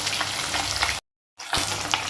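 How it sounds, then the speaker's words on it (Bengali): Large fish pieces fry in hot oil with a steady dense sizzle and occasional stirring, close up, broken by a brief gap of silence partway through. "চলো মাছগুলো ভেজে নিই।"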